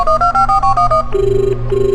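A telephone rings for an incoming call: a loud electronic ringtone of rapid, regular pulses, then a steadier repeating tone, close and clear with no voices.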